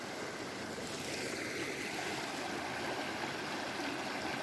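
River water flowing in a village outdoors, a steady broad rushing wash that stays constant and fairly close, with no voices.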